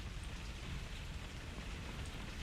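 Steady rain falling in the Skyrim video game, heard from indoors as a continuous soft hiss and patter, faint and unbroken, with no voices.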